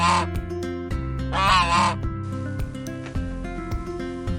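A goose gives two short, harsh honking calls, loud and close, over a steady musical backing.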